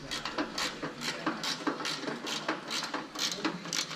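Socket wrench working rusty exhaust hardware loose, a dense stretch of quick metallic clicks and rattles, close and continuous.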